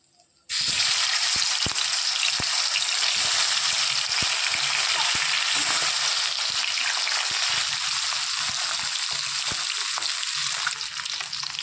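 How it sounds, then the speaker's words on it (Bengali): The remaining bhola fish go into the same hot oil, and a loud, even sizzle bursts in after a brief quiet start, then carries on steadily with occasional pops and no voices. "ওই তেলেই বাদ বাকি মাছগুলো আমি ছেড়ে দেবো।"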